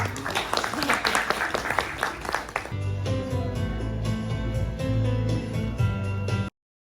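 Applause from an audience at a school reading-party show as first-grade children come on stage, a busy burst of clapping for about two and a half seconds that then gives way to a steady, sustained tonal sound.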